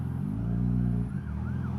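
An ambulance siren on a road sweeps past, its wailing tone loud and close for under two seconds before bending downward as it moves off, with engine rumble underneath.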